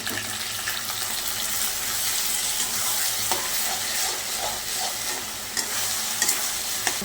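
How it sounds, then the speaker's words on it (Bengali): Ginger garlic paste sizzles and fries in a pan while being stirred, a steady broadband hiss with scattered scraping stir sounds, close and continuous, no talking. "আদা রসুনের পেস্ট করে রেখেছি, আদা রসুনের পেস্টটা দিয়ে দেবো।"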